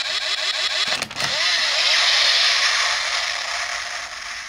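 Electronic sound effect from a Kamen Rider Accel DX Accel Driver toy belt: a ratcheting, engine-like mechanical burst followed by a loud, sustained revving roar that slowly fades, close and without talk.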